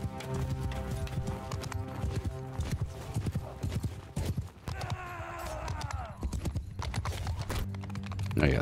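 Steady, rapid clip-clop of galloping horse hooves with a horse whinnying midway, over a busy game soundtrack in Mount & Blade II: Bannerlord.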